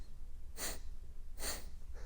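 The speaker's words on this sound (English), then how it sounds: "close off our left nostril, and exhale through our right nostril in 4 even exhales" Two sharp forceful exhales through one nostril during a breathing exercise, close and quiet, evenly spaced about a second apart, with a fainter third breath at the end.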